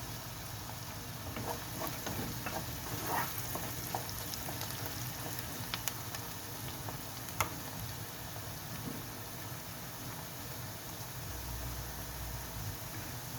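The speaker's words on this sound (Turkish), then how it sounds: "Soğanımız böyle kavrulsa daha güzel oluyor" Onions frying in butter in a pan give a faint, steady sizzle with soft crackles and occasional ticks, continuing evenly without any talking.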